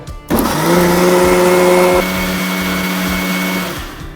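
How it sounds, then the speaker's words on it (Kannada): Mixer grinder whirring loudly as it grinds poppy seeds with coconut, a steady motor hum that starts abruptly, holds, shifts pitch midway and winds down near the end, with no talk. "ಮತ್ತೊಂದು ಸಾರಿ ನುಣ್ಣಿಗೆ ರುಬ್ಬಬೇಕು ಗಸಗಸೆ ಫುಲ್ಲಾಗಿ ಆಗಬೇಕಲ್ವಾ"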